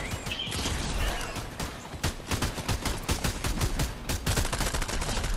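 Rapid bursts of enemy gunfire in the video game Fortnite, loud and close, dense volleys of sharp cracks repeating throughout with no voices.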